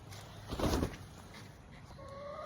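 A Wyandotte cross hen gives a short, fairly faint cluck outdoors, a single brief burst, with low farm background and no talk.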